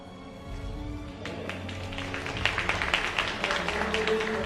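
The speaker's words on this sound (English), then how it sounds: "Party applause there for aLive" Crowd applause at a StarCraft II StarLeague esports match builds and swells into steady clapping, fairly loud and sustained, with a low hum of the venue underneath.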